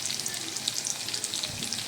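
Oil crackles steadily in a wok with black cumin seeds and green chillies, a dense, continuous close-up sizzle with tiny pops scattered throughout and no talking.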